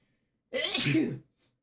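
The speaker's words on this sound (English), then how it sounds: "I have to sneeze." A single loud sneeze bursts out after a moment of silence, followed by a faint breath.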